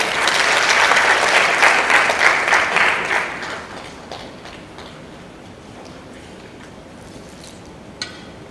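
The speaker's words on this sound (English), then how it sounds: "Honorable Musokotwane, let's give him a round of applause, shall we" An audience at an economic growth forum in Lusaka, Zambia, breaks into loud, dense applause that holds for about three seconds, then thins out and fades into a quiet room with a few scattered claps.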